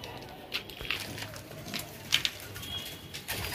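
Pigeons at a pigeon farm give soft, low cooing calls with occasional wing flutters, faint and scattered against a quiet background.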